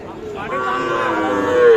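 Sahiwal bull lowing at a busy Bangladeshi cattle market, a single drawn-out, rising moo held for nearly two seconds, loud and close, with crowd murmur underneath.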